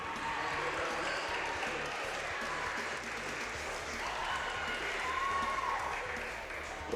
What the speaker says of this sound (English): Gets a nice little bit of nice round of applause.